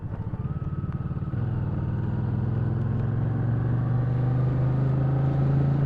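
A motorcycle engine idles close by, starting with a loose pulsing beat and then settling into a steady, smooth, even rumble that holds to the end.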